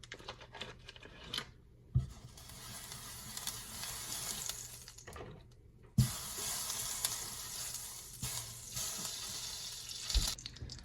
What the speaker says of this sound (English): And then our stick of butter, we're gonna add that onto the pan.